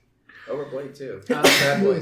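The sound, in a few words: sneeze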